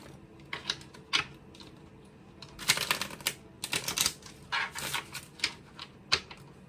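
A new deck of angel number cards is shuffled by hand, giving crisp papery riffles and flicks in irregular bursts, close and fairly quiet, with no talking.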